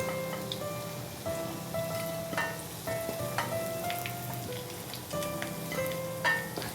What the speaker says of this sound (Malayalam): ഉരുളക്കിഴങ്ങിൻ്റെ പീസസ് എല്ലാം നല്ല ഗോൾഡൻ ബ്രൗൺ ആയി മുരിഞ്ഞു കഴിഞ്ഞു, റോസ്റ്റഡായി, പൊട്ടറ്റോ റോസ്റ്റ് പോലെയായി